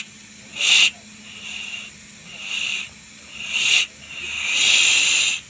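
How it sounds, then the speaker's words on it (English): Air hisses in four or five separate bursts from the leaking valve of a seized Aprilia SR50 Morini direct-injection scooter compressor, each burst loud and close and lasting under a second to several seconds, with quiet gaps between. "That is a very, very bad leak."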